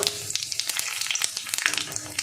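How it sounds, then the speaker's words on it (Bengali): Whole spices (dried red chillies, cardamom, cinnamon, bay leaf and cumin seeds) tempering in hot oil, giving a close, busy crackle of sharp pops and sizzling spatters with no voices. "দেখুন ফোড়নটা সুন্দর ভাজা হয়ে গেছে।"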